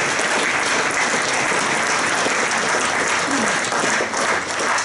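Sustained audience applause at a post-screening talk with a film crew, dense and steady throughout with no pauses, close and loud.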